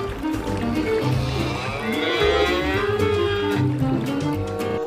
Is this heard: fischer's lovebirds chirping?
no